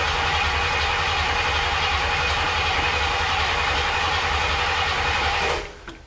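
A 1964 Cadillac convertible engine runs with a steady, loud, close rumble for several seconds, then cuts off abruptly near the end.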